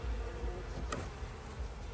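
Angry honeybees buzz around an open hive in a faint, steady drone with no voices.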